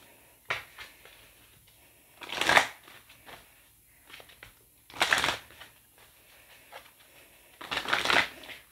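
Tarot cards being shuffled by hand, coming in three loud riffling bursts with softer card handling and light taps in between, close and clear with no talking.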